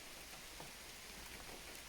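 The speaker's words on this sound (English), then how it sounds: "And it is pouring down with rain." Heavy rain pours down on a car park at Brown Clee Hill in a steady, dense hiss, faint and continuous with no voices.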